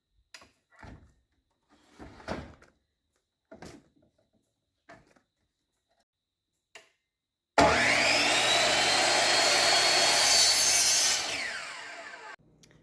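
A miter saw cuts through a section of 1.5-inch PVC pipe, first a few scattered knocks and handling clicks, then a loud sustained whining buzz of the blade biting through the plastic before it spins down.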